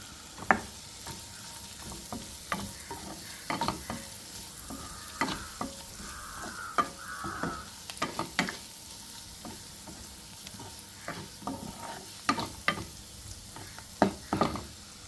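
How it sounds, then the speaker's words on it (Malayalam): Ingredients for butter paneer curry are sautéed in a pan over a soft, steady sizzle. Close, irregular spatula scrapes and clanks break in every second or so, with no voices. "രണ്ട് മൂന്ന് മിനിറ്റ് ഇങ്ങനെ വഴറ്റിയെടുത്താൽ മതി"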